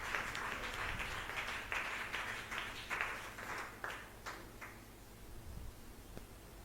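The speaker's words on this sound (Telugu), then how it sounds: "సంతోషంగా ఉన్న వాళ్ళు గట్టిగా చప్పట్లు కొడతారు" A church congregation claps in a burst of sharp, uneven hand claps that fades out after a few seconds, leaving a quiet room.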